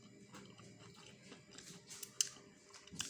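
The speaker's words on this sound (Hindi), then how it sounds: "ये पानी आ गया है और हम इसे खाएंगे।" Crisp crunchy pani puri (gol gappay) filled with chutney and water being bitten and chewed up close, soft irregular crunches and a few sharp cracks, quiet and without talk.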